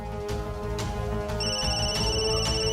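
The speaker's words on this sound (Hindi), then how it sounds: "ए फोन तेरा फोन बजा, फोन।" A phone ringtone plays steadily, a repeating electronic melody with bright tones, moderately loud and without voices.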